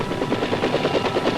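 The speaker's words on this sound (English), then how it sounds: "Army aviators get in with their dust-off helicopters, and the wounded are whisked away to safety" Army dust-off medevac helicopters in Vietnam in 1967 pick up wounded under heavy ground fire, with a loud, continuous rotor thump close by and no voices.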